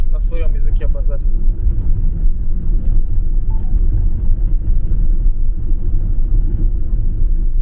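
A Mercedes Vito van cruises along a highway, giving a steady, loud low rumble of engine and road noise that fills the whole stretch, with brief voices near the start.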